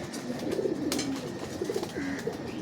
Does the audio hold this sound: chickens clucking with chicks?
no